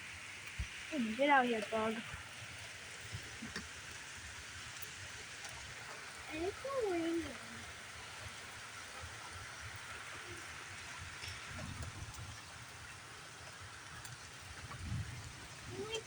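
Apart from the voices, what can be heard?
heavy rain during a storm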